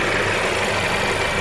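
A 2019 Mercedes A-Class with a 1.3-litre turbo petrol engine idles with a slightly rattly note, heard close up as a steady, even hum with no talking.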